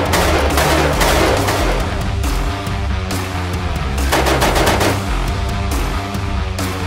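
Loud automatic gunfire from a firearm at a Texas shooting outing, rapid bursts of shots fired close by in quick succession, with brief pauses between strings.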